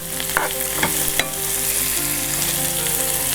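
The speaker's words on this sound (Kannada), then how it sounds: "ಇದನ್ನು ಚೆನ್ನಾಗಿ ಫ್ರೈ ಮಾಡ್ಕೊಳ್ಬೇಕು. ತರಕಾರಿಗಳೆಲ್ಲ ಚೆನ್ನಾಗಿ ಬೇಯಬೇಕು." Vegetables fry steadily in a hot pan with a constant sizzle, while a few sharp clinks of a spoon against the pan stand out in the first second or so.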